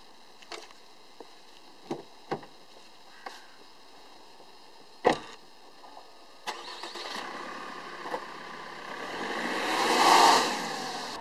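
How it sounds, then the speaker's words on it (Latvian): A 2016 Opel Astra starts up after a series of sharp clicks and thuds, its engine catching and idling quietly before revving and swelling as the car pulls away. "dosimies nelielā izbraucienā ar šo automobīli."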